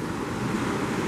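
Sea waves at Los Frailes beach in Ecuador, a broad, steady surf roar mixed with wind buffeting the microphone, loud and continuous over a short moment.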